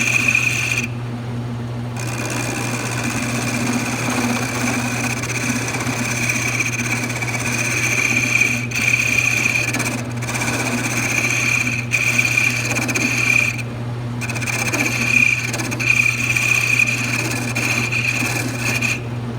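A wood lathe spins at about 800 RPM while a small knob is turned, giving a steady motor hum under a continuous scraping rasp of the tool on the wood, loud and close, with brief dips.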